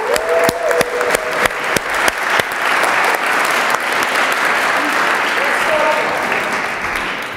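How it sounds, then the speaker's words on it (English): A crowd applauding at a talk show event as a guest comes to the stage, dense sustained clapping with a few sharp louder claps near the start, continuing steadily throughout. "I would like to invite now Sofia Bulgakova to the stage and give her a round of applause."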